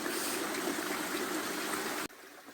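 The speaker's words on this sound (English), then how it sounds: "You can see that the brook has slowed to not much more than a trickle." A shallow brook in Ram's Clough, a Peak District gully, slowed almost to a trickle, gives a steady close wash of running water that cuts out sharply near the end, leaving only faint ambient noise.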